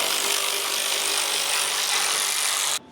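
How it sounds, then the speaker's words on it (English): A 15 mm socket works the fuel tank strap bolt on a 2011–19 Chevy Silverado or GMC Sierra 2500/3500, giving a loud, steady, close grinding whir that runs unbroken for nearly three seconds and then cuts off abruptly. "Now with the 15, we're going to get on strap bolt."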